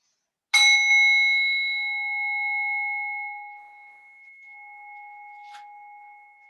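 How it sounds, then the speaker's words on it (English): A single bell struck once to open a yoga practice rings out clear and close, its bright tone sustaining and slowly fading over several seconds in an otherwise silent room. "we're just going to use the sound of the bell to drop us into the ground and into physical sensations"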